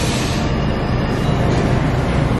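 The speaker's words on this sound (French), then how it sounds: "Je viens de prendre le RER comme vous avez vu." An RER commuter train rumbles along in a steady, loud, close-up roar of wheels and carriage noise, cutting off abruptly at the end, with no voices.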